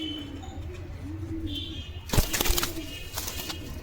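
A Giribaz pigeon coos in soft, low repeated phrases up close, then a sudden burst of rustling or wing-flapping cuts in before the cooing resumes faintly.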